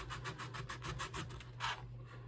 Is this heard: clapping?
no